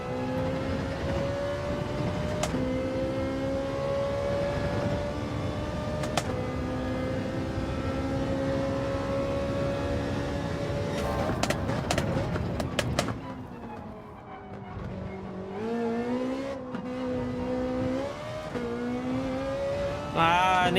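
A Ferrari race car in Gran Turismo 7, its engine droning loud and steady through long pulls, cutting sharply at gear shifts and dipping briefly before revving back up as the car brakes and accelerates through corners.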